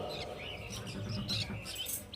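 Many small caged birds, including yellow-sided and pineapple conures, chirp and tweet together in a busy, continuous chatter at a bird market, moderately close.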